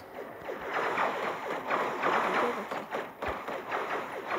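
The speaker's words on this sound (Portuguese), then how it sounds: "Vou jogar outra granada aqui" A grenade is thrown and explodes in the sci-fi shooter game N.O.V.A Legacy, heard as a dull low thump near the end over steady, busy rumbling game noise.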